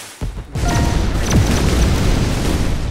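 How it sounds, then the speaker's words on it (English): Fireworks weapon blasts in the ShellShock Live artillery game, a loud boom followed by a dense, continuous crackle of bursting explosions that stays strong to the end. "Fireworks. I always love fireworks."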